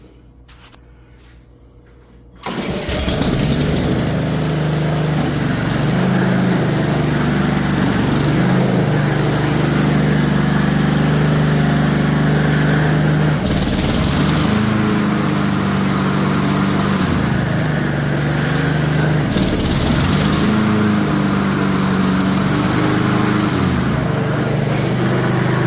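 A Honda HRN216 walk-behind lawn mower starts up and runs at a steady, loud drone, with a brief quieter moment before the engine catches and holds a constant idle.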